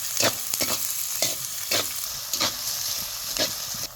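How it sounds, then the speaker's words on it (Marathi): Cumin and mustard seeds sizzle in hot oil for tempering, a steady frying hiss broken by repeated sharp crackles and pops as the seeds sputter and a spoon stirs the pan, with no speech. "फोडणीसाठी एक पळी तेल ओतलं एक चमचा जिरं टाकू मोहरी टाकू"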